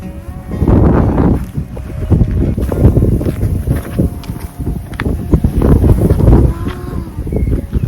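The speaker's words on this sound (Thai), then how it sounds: "เวลาลมมันพัดดอกหญ้าโยดเล" Wind sweeps across a mountain hillside of grass flowers in Germany, a steady, loud, gusting rush with buffeting against the microphone throughout.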